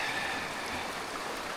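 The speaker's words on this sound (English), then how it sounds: "Right, across the creek." Creek water flowing steadily during a crossing on a hike near a mountain hut, a continuous broad rushing wash, close and even throughout with no voices.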